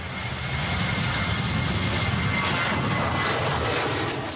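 easyJet airliner engines drone steadily in the cabin shortly after takeoff, a loud, constant broadband roar with no break and no voices.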